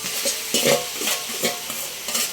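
Taro leaves are sautéed for laing and gently stirred in a pan, giving repeated soft scraping strokes in an even rhythm over a bright, close sizzle.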